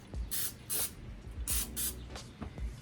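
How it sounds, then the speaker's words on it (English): Four short, sharp hisses from an aerosol can of cooking spray spraying into a bread loaf pan in quick pairs, close and loud, with light clatter between bursts. "We're gonna spray it with a cooking spray"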